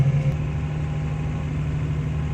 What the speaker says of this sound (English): He doesn't want me to turn the tractor off